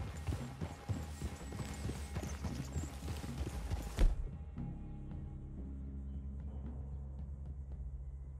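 Horse hooves clip-clopping in the video game Red Dead Redemption 2, a quick, busy patter of several hooves at close range for about four seconds, then an abrupt drop to a low, steady rumble.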